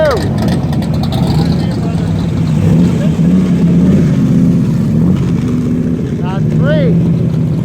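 Four Cobra sports cars drive past at an outdoor car show, their engines rumbling loudly and steadily with rising and falling pitch, with a couple of short higher tones near the end.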